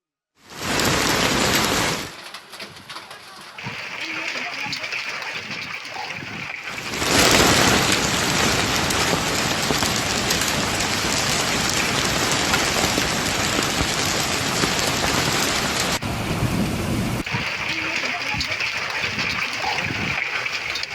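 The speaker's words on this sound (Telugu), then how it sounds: "తెలంగాణ వ్యాప్తంగా పలు జిల్లాలో భారీ వర్షాలు కురుస్తున్నాయి" Heavy storm rain, in a region hit by hailstorms, hisses in a loud, continuous wash, briefly dropping out before resuming at full strength and staying steady throughout.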